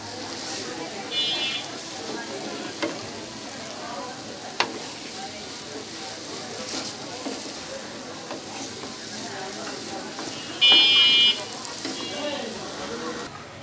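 Laddu mixture fries in ghee in a pan, a soft continuous sizzle with occasional stirring scrapes, heard under a person talking and a brief electronic beep.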